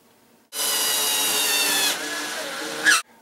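A power drill drives screws into a pinball machine speaker installation, whirring steadily for a couple of seconds, dipping in pitch as it bites, then revving briefly before stopping, close by.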